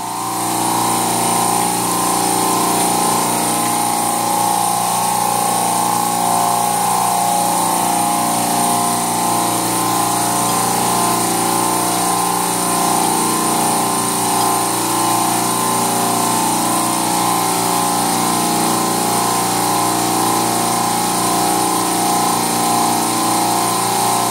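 An air compressor runs steadily with a constant mechanical hum and whine that holds the same tone and level for the whole stretch, close by, with no talking.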